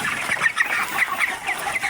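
Broiler chickens in a poultry shed cluck in short, repeated calls, several birds close by at a fairly steady level with no talking.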